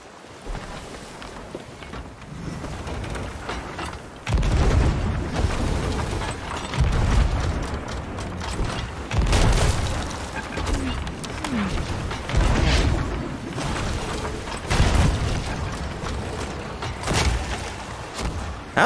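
Ship cannon fire in Sea of Thieves during a naval fight, repeated deep booms and thuds spaced a few seconds apart over a wash of sea and ship noise.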